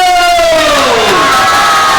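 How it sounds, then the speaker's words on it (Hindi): An audience welcomes a speaker at a devotional Bhagavat Katha gathering with loud, dense cheering and shouting, filling two seconds with a continuous roar that rises and sweeps across the room. "तो जोरदार ताली से लोग प्रभु जी का स्वागत करेंगे"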